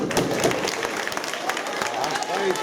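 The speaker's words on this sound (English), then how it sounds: "Everyone give a clap." A group of participants at a kicking drills session claps together, a quick burst of scattered hand claps mixed with movement and nearby voices.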